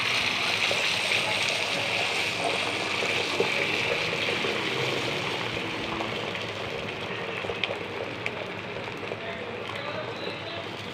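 Beaten egg is poured slowly into hot oil on a flat griddle, a continuous soft hissing wash that holds steady for several seconds and fades slightly toward the end.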